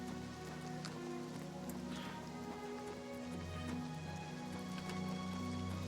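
Rain falls in the Oblivion Remastered video game, a soft, steady patter that stays faint and constant throughout, with low in-game ambience underneath and no speech.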